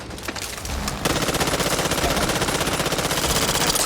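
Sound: gunfire in the video game Back 4 Blood

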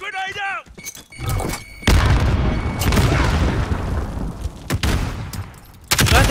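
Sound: grenade explosion in the video game Call of Duty: Modern Warfare

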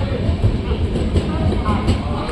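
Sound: passenger train departing from Dhola

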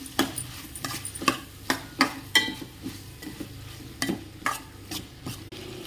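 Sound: stirring salt, ginger garlic paste and masala powder in pan

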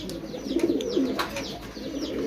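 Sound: pigeon cooing

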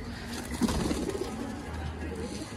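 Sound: pigeons cooing in a pigeon loft

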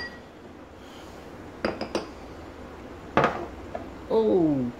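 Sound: mixing seasoning ingredients together in a bowl

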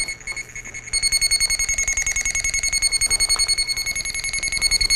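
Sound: Armada Technologies Pro300 sprinkler valve locator signal tone

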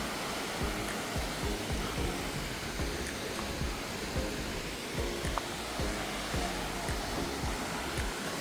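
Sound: Suok waterfall in Goesan rushing

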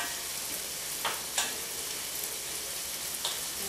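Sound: vegetable dish sizzling in a pan on the heat

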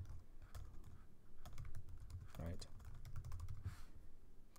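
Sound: typing on a computer keyboard

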